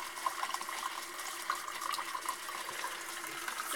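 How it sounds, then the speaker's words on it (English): Purified water runs steadily from the tap of a Zuvo water purator, a soft continuous trickle and splash at close range with no talking over it. "It's just gonna come right out of your tap."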